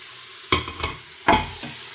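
Onion and garlic fry in a pot of regular oil mixed with olive oil, a low sizzle cut by two quick scraping stirs, each followed by a brief burst of frying. No talking.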